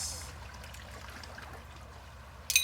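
Shaken Detroit Daisy cocktail of rum, lime juice and grenadine poured from a shaker into a martini glass, a soft steady trickle under low room hum, ending in a brief clink.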